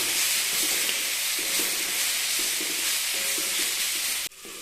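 Tomatoes being mashed and stirred in a hot frying pan for Chettinad-style chicken dry roast: a steady close sizzle with repeated soft scraping strokes of a spoon, cutting off abruptly at the end.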